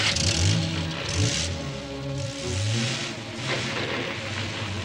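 A car engine revving in repeated surges as it starts and pulls away, close and loud, with clattering and rumbling throughout.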